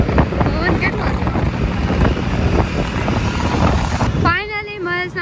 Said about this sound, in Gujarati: આ તો પવન કેટલો છે